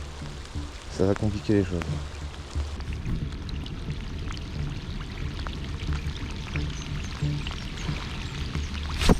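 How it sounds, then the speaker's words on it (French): Rain falling on anglers during a sea bass fishing competition on the Normandy coast, a steady hiss of drops under a voice talking, with wind and water noise throughout. "la pluie est là"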